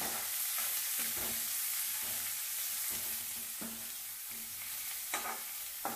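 Onions frying and being stirred with peanuts in a pan for a Ballari-style avalakki oggarane breakfast, a steady close sizzle broken by several scraping stirs, with no talk.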